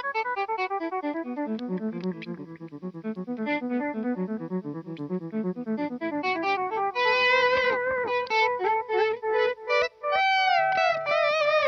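An electric guitar played through a Seymour Duncan Vapor Trail delay pedal with the delay switched on. Sustained, overlapping notes echo and trail into each other in a rich wash, followed by brighter picked phrases whose repeats ring out loudly.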